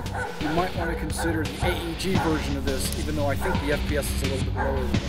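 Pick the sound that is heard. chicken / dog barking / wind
dog barking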